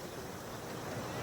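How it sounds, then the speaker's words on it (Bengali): Sea waves at Digha beach: a steady broadband wash of surf with constant roar, some wind noise on the microphone, no distinct speech. "এই দেখো ঢেউটা দেখেছো, দেখো"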